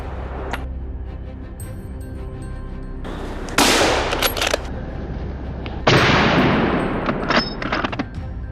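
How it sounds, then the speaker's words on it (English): Rifle shots fired at wild boars in a field: a couple of sharp, loud cracks, each trailing into a broad rushing decay, over a steady outdoor background with faint chirps. "I tracked them and fired multiple rounds, adding more trophies to our tally."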